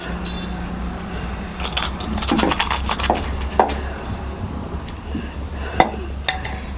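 Ground mustard dal and salt being mixed with chopped lemon in a bowl for sweet-sour lemon pickle, with irregular spoon scrapes and clinks against the bowl, moderately close, and no voices.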